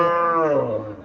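A Haryana breed bull calf at a cattle market gives a single loud, close moo lasting about a second, fading slightly at the end.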